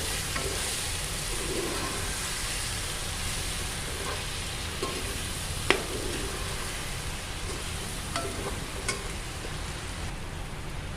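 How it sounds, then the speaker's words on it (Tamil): Eggplant turns and fries in sesame oil for a spicy Tamil tamarind gravy, giving a dense, steady sizzle close up. A few sharp clicks of a spoon against the pan break through now and then, and no one speaks. "இது இதுக்குள்ளே போட்டு நல்ல எண்ணெயிலேயே பிரட்டி வைக்கணும்"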